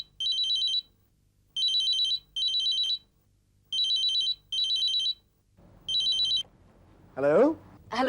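A telephone rings in repeated electronic bursts, six short trilling rings separated by pauses, loud and close, before a voice begins speaking at the end.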